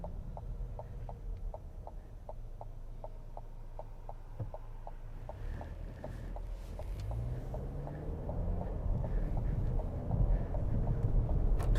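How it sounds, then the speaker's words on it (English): Cabin of a Buick Envision Avenir AWD on the road, with a steady low road and engine rumble that swells gradually and a regular ticking, like a turn signal, running through it, with no talking. "you also get a bit of an idea of how the sound is here in the Envision and how loud it is"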